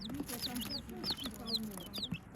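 Laying hens of three breeds cluck in a coop, with repeated short calls and chirps scattered across the moment, close by, while a voice talks faintly underneath.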